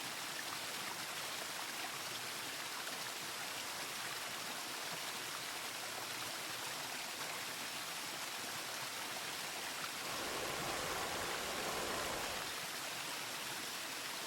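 Irrigation water pours into a bay of the Encanyissada lagoon in the Ebro delta, a steady rushing flow that swells briefly in the last few seconds, heard alone.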